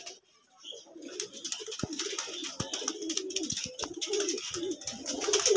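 Pet pigeon cooing in low, soft, repeated murmurs nearby, amid rustling and a few sharp knocks, with a brief quiet start before the sound picks up.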